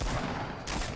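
Gunfire from other players shooting at each other nearby in the battle royale game Fortnite, a dense burst of rapid shots with a short break and then more firing, moderately loud.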